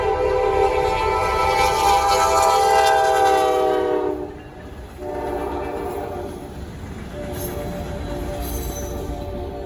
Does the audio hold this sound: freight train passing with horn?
yes